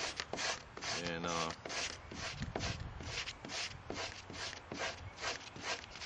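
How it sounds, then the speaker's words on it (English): Stone flake scraping the outer chafe off a yucca leaf laid on a solid surface, heard as close, steady, repeated rasping strokes in a quick rhythm, with a few low thuds. "place it on a good solid surface, and you just scrape that outer chafe off"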